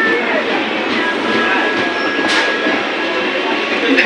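A train arriving at a station platform rumbles and clatters steadily nearby, with a faint whistle-like tone and a brief hiss partway through; no clear speech.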